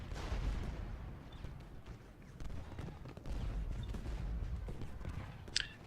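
Cannon fire from Civil War artillery near Seminary Ridge in the Ultimate General: Gettysburg strategy game: a dull, distant rumble of overlapping booms with scattered sharper reports and a brief bright crack near the end.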